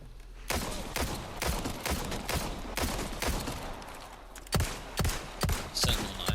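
Handgun fire in Resident Evil 4, rapid sharp shots in quick succession through the clip, loud and close with a brief pause before a final cluster of shots.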